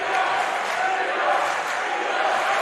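A high school boys basketball crowd in the Reichert gym roaring, a dense and sustained wash of cheering that stays loud the whole time.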